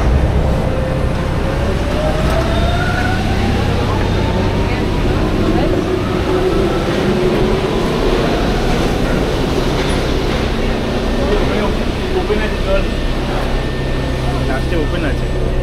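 Riding inside a moving Paris metro train: a loud, steady rumble of wheels and carriage throughout, with faint rising and falling whines as it runs.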